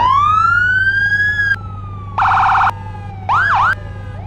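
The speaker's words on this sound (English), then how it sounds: "Our sirens." Roblox police car siren from a Firestone DHS K9 patrol vehicle, loud and close with no talk: a long rising wail, then a rapid yelp burst, then a short warbling whoop, each blast cutting in and out.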